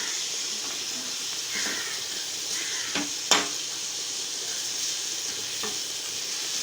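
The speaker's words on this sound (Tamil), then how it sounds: "பச்சை வாசனை போகிற வரைக்கும் வதக்கிக்கலாம்" Tomato chutney sautés in a hot pan with a steady close sizzle and hiss, broken by a few sharp scrapes and clinks of a spatula stirring it.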